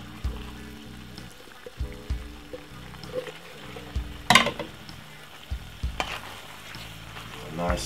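Penne pasta tipped into a pan of sizzling tomato sauce with king prawns, then stirred: steady frying hiss with scraping stir strokes and a brief louder clatter midway, no talking.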